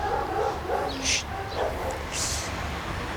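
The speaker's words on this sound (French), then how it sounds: "je m'excuse aussi pour les aboiements de chiens" Small dogs barking and yipping at a yoga retreat in the South of France, several sharp close barks in short bursts with a whimpering tone, over a low steady background hum.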